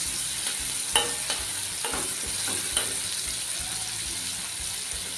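Chopped onions sizzle and crackle in hot oil as they are stir-fried, with a steady broadband hiss and several sharp scraping stirs close by, no talking.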